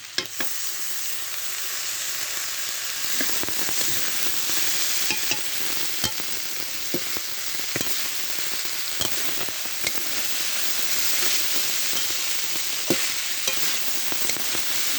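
Small tengra fish are stir-fried with turnip stalks, beetroot and ground pepper, nigella and cumin. A steady loud sizzle runs throughout, punctuated by regular scrapes and knocks of the spatula, with no talking.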